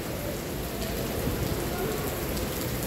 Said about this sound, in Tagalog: Kaya lang grabe ang ulan.